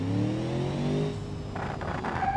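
A manual Porsche Panamera in the video game BeamNG.drive, its engine droning loudly and falling in pitch, then dipping and picking up again as if through a gear change.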